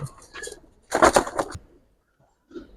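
Army breed pigeons coo in a few soft, throaty bursts, with a louder cluster in the middle and a faint final coo after a pause.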